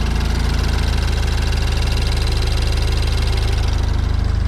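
BMW Z4 E89 engine running just after a new timing chain fitting, a loud, steady close idle with a constant rhythmic pulse and some mechanical rattle, no voices.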